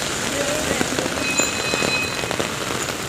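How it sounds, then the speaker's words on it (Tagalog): Heavy rain pours steadily in a dense, continuous hiss of drops drumming on surfaces, loud and unbroken throughout, with scattered sharper patters and no clear speech. "Walang tigil ang ulan."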